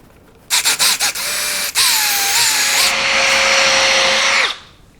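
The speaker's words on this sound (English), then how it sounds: "So typically what I'll do is just drill that out." Power drill drilling out a fastener on a wooden shutter being restored: a few quick stuttering trigger pulses, then a sustained loud whine of about three seconds that winds down, close up with no talking.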